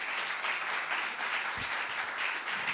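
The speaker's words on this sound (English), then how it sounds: "Round of applause for both candidates." Audience applause at a 2017 Seattle candidates forum, steady dense clapping from a crowd filling the room for the full stretch, with a brief low thump partway through.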